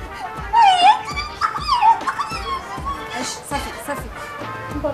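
Dogs yelp, whimper and bark in several strained bursts amid a tense Moroccan film scene, with people talking and voices overlapping throughout.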